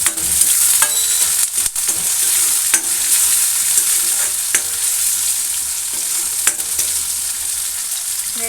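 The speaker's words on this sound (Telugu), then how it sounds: "ఇప్పుడు కట్ చేసుకున్న ఆనియన్స్ని కదా అవైతే వేసుకోవాలి." Chopped onions sizzle in hot oil in a pan for a tomato egg curry, a steady loud frying hiss broken by occasional stirring clatter.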